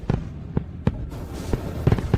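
Fireworks pop and crackle in a quick scattered series of sharp bursts, moderately loud, with no voices.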